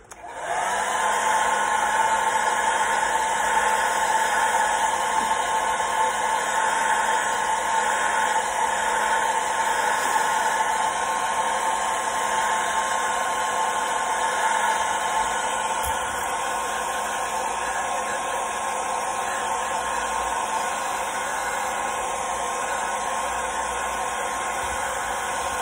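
A heat gun sets fingernail polish paint on a fishing crankbait, giving a loud, continuous blowing whoosh with a steady motor whine that runs without pause for the whole stretch.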